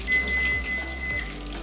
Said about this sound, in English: All right, timer's up.